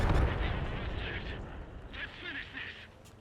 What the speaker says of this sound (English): But my Fury is going to eat some Calliope rockets.